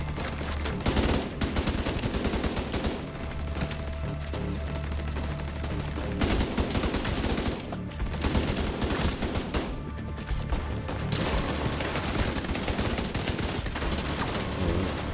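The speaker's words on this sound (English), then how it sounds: "Oh, he has a machine gun." Sustained machine gun fire from a turret in The Division 2, a loud, continuous rapid rattle running for about fifteen seconds with only brief dips.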